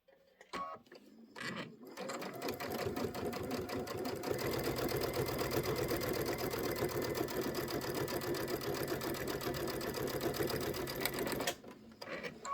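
Sewing machine stitching a quilt block onto muslin, starting with a few short bursts and then running in a steady, rapid mechanical rattle for about ten seconds before stopping, with faint handling noises at the edges.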